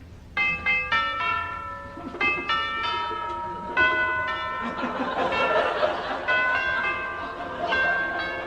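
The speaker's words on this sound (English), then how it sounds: "I'll just ring the doorbell." A doorbell chimes as a radio comedy sound effect, a sequence of clear ringing tones repeating in bursts and then sustaining into a dense, overlapping ring, with faint voices underneath.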